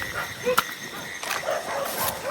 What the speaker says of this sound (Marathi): आणि कुत्रे बघा किती वाढतात